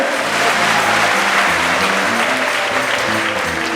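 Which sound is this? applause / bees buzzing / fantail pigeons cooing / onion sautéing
applause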